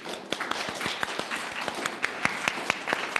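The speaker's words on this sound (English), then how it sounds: "Let's see if we can all clap in different ways" A congregation at a service claps out of sync, a scattered patter of separate claps like rain, fairly soft, with no talk over it.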